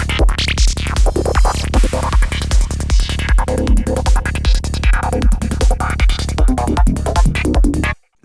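A psytrance arrangement with a newly added synth lead plays back loud and dense over a steady, driving four-on-the-floor kick, then cuts off abruptly near the end.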